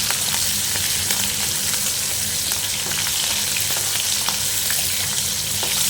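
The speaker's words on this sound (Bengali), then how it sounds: "দিয়ে চিংড়ি মাছগুলো আগে দিয়ে দিচ্ছি। নাড়াচাড়া করে বেশি ভাজবো না।" Prawns sizzle loudly in hot oil in a pan, a dense steady crackle with occasional scrapes and clicks as they are stirred, close and continuous with no talk.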